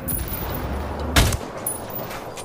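A single sharp gunshot burst from the video game Ghost Recon Wildlands cracks out loudly midway through, over a low steady background hum.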